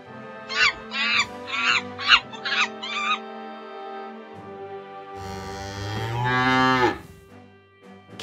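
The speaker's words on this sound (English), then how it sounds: "Cow." A cow gives one long, loud, drawn-out moo close by, after a series of short, higher calls from other animals earlier on.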